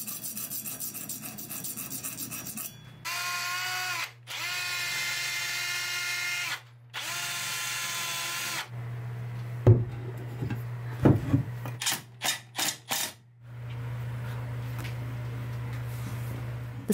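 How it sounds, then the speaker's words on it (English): A spade drill bit bores through wooden blocks into the original wooden stands in a cramped space, giving long whining drill bursts separated by brief stops, then a few knocks and clatters over a steady low motor hum. "The spoke drill bits would allow us to drill all the way through the blocks and into the original wooden stands"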